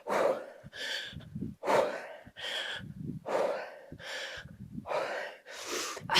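Forceful, rhythmic breaths and gasps come in about eight close, loud bursts while someone swings a heavy kettlebell through a woodchop exercise.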